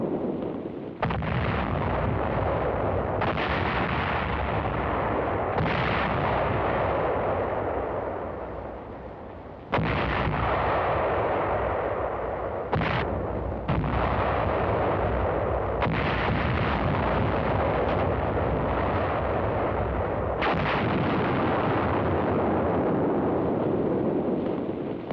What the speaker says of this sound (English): explosions destroy large stores of ammunition at a former Nazi ammo dump in the harbor area of Cherbourg,